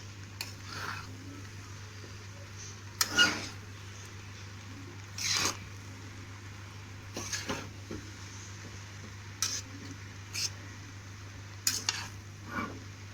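Chicken fried rice is stirred in a pan, with sparse, separate scrapes and clinks of a spoon against metal over a quiet background hum.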